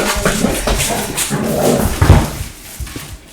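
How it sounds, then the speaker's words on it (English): Pet dogs barking, yipping and whimpering indoors, several loud close bursts in quick succession that trail off into softer whines, with no talking over them. "I'm sure you can hear my dogs."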